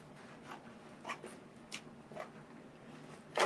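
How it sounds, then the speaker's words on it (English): Small scissors snip through a sheet of transfer tape in a quiet crafting space, giving several soft, separate crisp cuts spread over a few seconds, faint and close, with no talking. "And yes, I'm cutting with little kid scissors."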